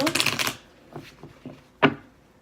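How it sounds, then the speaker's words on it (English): Quick riffling of tarot cards for about half a second, followed by a few soft taps and one sharper card snap, close and fairly quiet. "We're just going to do a little bit more shuffling on camera for you."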